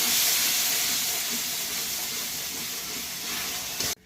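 Water poured onto hot spice masala with cumin and coriander powder for chicken kosha, a loud, close hissing sizzle that starts strong and gradually eases before cutting off abruptly near the end.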